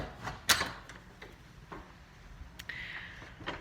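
An old wooden door in a historic house is worked open, with a sharp clack, a few faint creaks and knocks, and a rising scrape near the end, all fairly quiet and close.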